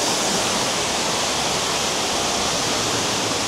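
Steady, broad rushing roar of the Trusetal waterfall, heard from just below it, continuous and loud with no pauses or voices.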